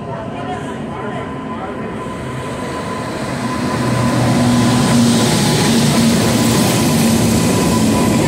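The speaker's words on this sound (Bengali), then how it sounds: "তো চলো আসুক ট্রেন" The Dibrugarh–Kanyakumari Vivek Express pulls into an Indian railway station: a low rumble and steady hum that swell noticeably louder halfway through as the train draws near, over a constant wash of platform noise.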